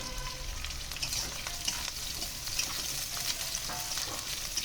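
Thin-sliced potatoes sizzle in hot oil for a mourala fish tel jhol with eggplant. The steady, close frying crackle is broken by occasional stirring scrapes, with no voice over it.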